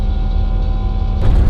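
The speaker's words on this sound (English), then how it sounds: "Down the elevator we go." Elevator descending in F.E.A.R.: a steady, loud mechanical hum with a low rumbling drone, and a brief rise in noise near the end as the car shifts.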